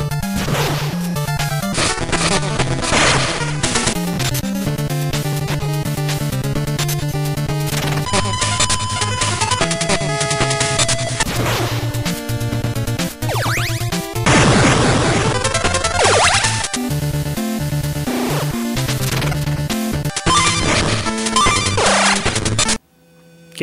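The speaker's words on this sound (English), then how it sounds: "I should note the sound effects are heavily on the side of Shadow of the Ninja." Chiptune sound effects from Ninja Gaiden Shadow on the Game Boy: dense bursts of buzzy blips, crashes and electronic hits, rapid and continuous over about twenty seconds, loud with no voices.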